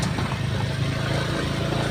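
A motorcycle on a narrow bridge gives a steady, close engine drone with a low rumbling hum that holds evenly for the whole stretch.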